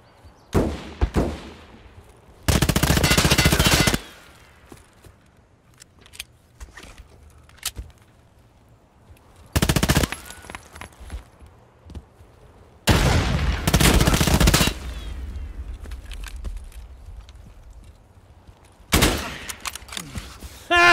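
Escape From Tarkov gunfight with sharp bolt-action Mosin rifle shots and louder sustained bursts of automatic fire in separate blasts, spaced by quieter stretches of movement and shuffling.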